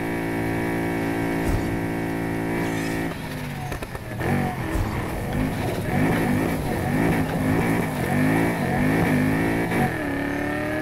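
Racing-game car engine in Need for Speed Heat, running a stock motor with a single turbo, droning at a steady pitch before revving in rapid rising and falling bursts, loud and close throughout.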